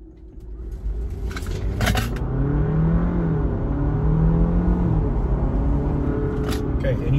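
A Jeep Wrangler 4xe Rubicon plug-in hybrid accelerates hard from electric-only mode on a quiet backcountry road as its engine starts, building into a loud, steady in-cabin roar and whine with a few clunks and rattles of loose items.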